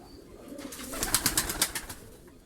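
Costume-breed pigeons in a Karacabey breeder's loft give low cooing mixed with a short burst of rapid wing claps, close and fairly loud, fading afterward, with no voices.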